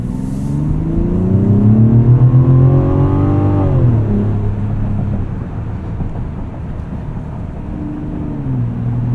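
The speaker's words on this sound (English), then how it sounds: "As soon as you lift off the brake, engine fires right back up." The 3.3-liter turbo inline-six of a 2024 Mazda CX-90 restarts from auto stop as the brake is released and revs upward, climbing in pitch for a few seconds, then drops back and settles into a quieter hum before rising slightly again.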